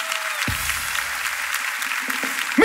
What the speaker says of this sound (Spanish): Un fuerte aplauso para los talentos que lo han hecho espectacular